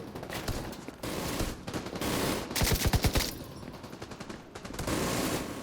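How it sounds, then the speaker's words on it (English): A chain gun fires in The Division 2, with rapid bursts of machine-gun fire mixed with scattered gunshots. One dense, fast rattle stands out near the middle amid ongoing battle noise. "Somebody's on the chain gun."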